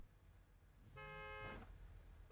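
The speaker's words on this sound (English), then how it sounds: "There's a vehicle somewhere that's honking and doesn't know where he's going." A car horn honks once in the background, a single clear toot of about half a second rising out of a low hum, faint and distant.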